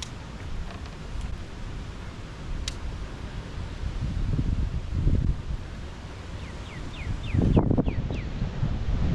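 Wind blowing outdoors on the water during a bass fishing trip near Fort Worth, a steady low rumble buffeting the microphone that swells into stronger gusts midway and again near the end, with faint high chirps briefly above it.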